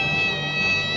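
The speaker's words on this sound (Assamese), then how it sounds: "মেকুৰীয়ে কন্দাটো বৰ অমংগলীয়া" A cat cries in a sustained, loud, tonal meow lasting about a second, close by and alone, in a domestic scene from a television drama.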